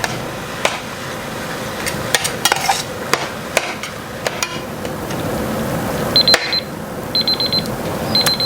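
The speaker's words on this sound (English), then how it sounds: "my macaroni timer has just gone off" A kitchen timer for boiling macaroni goes off in short, high, rapid beeping bursts, repeated three times. It sounds over clattering and stirring from a stovetop pan of ground beef and onions for a southwestern casserole.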